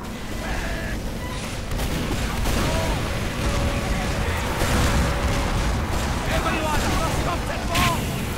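Scattered gunfire and booms from a team shooter video game, continuous and dense with mid-level battle noise throughout, under excited commentary voices.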